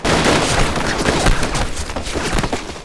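Dense gunfire from a war film set in 1920, with Korean independence fighters and elite Japanese troops. Soldiers shoot continuous overlapping volleys for the whole stretch, loud and close, with no pauses.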